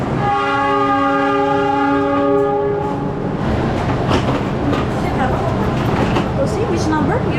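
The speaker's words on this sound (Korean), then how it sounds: "차가 들어왔는데 파노라마는 저 앞에 있구나." A panoramic passenger train pulls into a station platform in Indonesia, sounding a long, loud horn blast before the rolling rumble and clatter of the cars passing close by.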